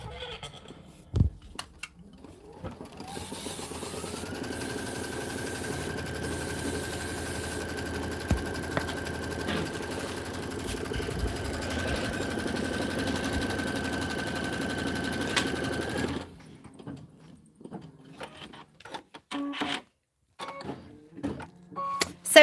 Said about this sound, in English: So it's stitching out the template right now